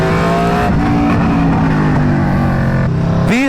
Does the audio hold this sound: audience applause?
no